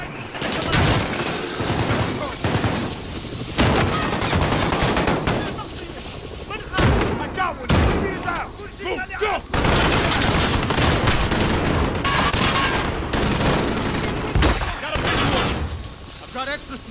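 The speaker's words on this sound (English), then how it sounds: "How do you shoot that shotgun so fast?" Rapid shotgun blasts and heavy gunfire crash through a Modern Warfare campaign battle, loud and dense, while players talk excitedly over the shooting.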